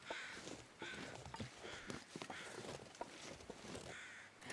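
Crows caw faintly in the survival game The Long Dark, a few harsh calls spaced over a low outdoor ambience with soft footstep-like crunches.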